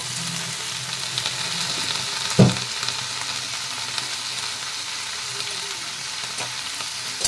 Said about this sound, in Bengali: এখানে ছোট ছোট করে পুঁই ভেটুলি কেটে রেখেছিলাম, ভালো করে ধুয়ে ওটা ঢেলে দেব